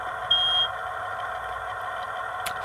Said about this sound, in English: Driver buzzer.